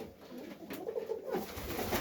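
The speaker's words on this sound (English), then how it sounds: "Checking out the birds." Pigeons coo in soft, repeated low calls close by on a cold, windy, rainy day at feeding time, with a faint breezy background.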